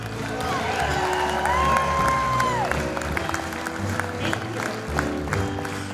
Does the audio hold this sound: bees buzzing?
no